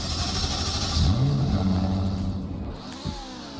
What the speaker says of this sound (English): we can quickly hop in and out for the startup sound